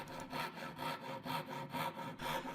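Hand saw cutting a notch into the edge of a wooden tenon for a sleigh bed, a steady run of about six rhythmic rasping strokes, close and alone.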